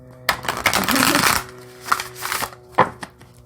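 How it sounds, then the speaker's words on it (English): Crisp riffling bursts of a new tarot card deck being shuffled, a long flutter followed by two shorter riffles, close up with a faint steady hum behind. "it shuffles nicely, it does"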